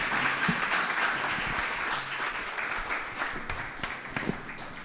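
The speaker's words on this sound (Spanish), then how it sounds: "con un aplauso a este magnífico panel." An audience applauds a panel on constitutional reform and the social pact, a steady wash of many hands clapping at moderate distance, with no talk over it.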